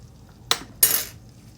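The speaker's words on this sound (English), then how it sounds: "So we've got our butter melted, so let's go ahead and add this garlic." Fresh garlic going into melted butter in a pan and being stirred, heard as two sharp metal utensil clinks against the pan, the second longer and scraping, over a quiet background.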